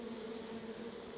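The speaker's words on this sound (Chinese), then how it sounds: "哇，那个蜜蜂全部窜出来了！" Stingless bees pour out of their nest in the Manila area of the Philippines, making a dense, steady buzzing drone close by that holds unbroken throughout, with no voices.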